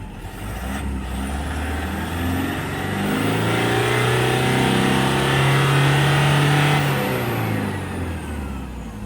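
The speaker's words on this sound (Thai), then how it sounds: "เดี๋ยวเรามาเหยียบคันเร่งให้ดูหน่อย ว่า จะมีควันขาวหรือควันดำออกมามากน้อยแค่ไหน" A 2014 Toyota Vigo Champ Smartcab Prerunner 2.5G pickup engine revs up from idle, climbing to a loud, sustained high-rpm drone held for several seconds before easing back down, recorded up close with no talking.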